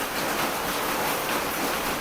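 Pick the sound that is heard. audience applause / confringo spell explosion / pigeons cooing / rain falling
rain falling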